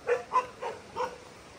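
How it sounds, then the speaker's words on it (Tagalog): Several dogs at a rural home with a small waterfall give four short, fairly quiet barks in an uneven rhythm, spaced about a third of a second apart, with no talking. "Dami nilang aso."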